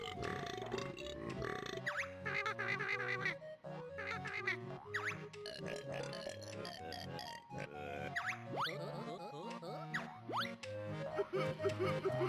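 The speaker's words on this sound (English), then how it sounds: "this is Blubber, I think? Yeah. And he talks in burps for some reason" Blubber the hippo from the Banjo-Kazooie video game speaking in a string of wet, pitched burps and grunts over bouncy game music, with a voice heard briefly alongside.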